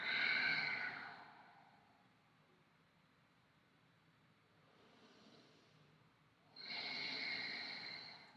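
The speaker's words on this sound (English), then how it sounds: "And exhaling." A person exhales slowly during a guided stretching exercise, a soft breathy rush that fades out, followed after a quiet pause by another clear, close breath.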